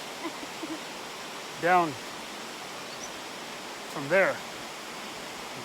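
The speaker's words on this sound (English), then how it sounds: "That is a waterfall because the water falls." The waterfall on the North Fork Park trail gives a steady, fairly loud rushing wash of falling water. It runs unbroken, and two short spoken phrases rise above it.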